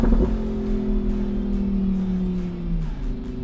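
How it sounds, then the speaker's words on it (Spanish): A Lamborghini Huracán Evo RWD Spyder's engine pulls hard under acceleration, loud and close, its rising drone holding steady before easing slightly toward the end. "Este motor es una auténtica barbaridad, cómo empuja, es increíble, realmente increíble"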